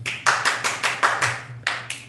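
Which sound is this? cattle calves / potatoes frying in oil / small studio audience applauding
small studio audience applauding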